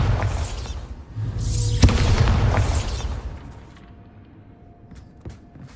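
A Bombarda spell blasting in Hogwarts Legacy, heard as a series of booming bursts with crackling debris over about three seconds, then fading to quieter scattered pops.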